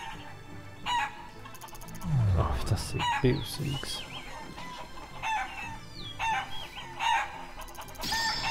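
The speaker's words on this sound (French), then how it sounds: "Deux poules." Chickens clucking in the video game Shenmue, with a loud crow-like call and short clucks over busy game music and effects, while a player talks over it.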